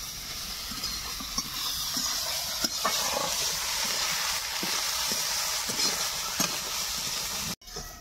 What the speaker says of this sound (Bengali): এবার কিন্তু মাছটাকে শাকের সঙ্গে খুব সুন্দর মিশ্রণ করে নেব।